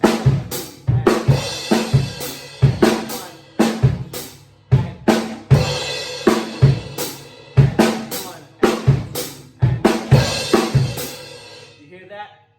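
Songo drum groove on a kit, with crash and ride cymbal strikes over bass drum and snare. The pattern is steady and repeating, played close and loud, with sharp, bright cymbal hits recurring in an even rhythm throughout.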